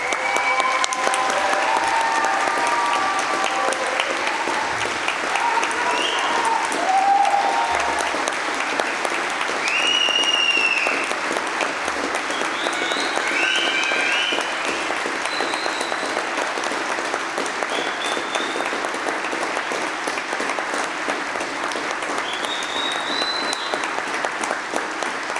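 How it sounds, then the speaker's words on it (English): Graduation ceremony audience at the University of Manchester gives a long, loud round of applause, dense sustained clapping filling the hall with a few cheers and whistles rising above it. "Could all guests and supporters please stand now and join me in a big round of applause again."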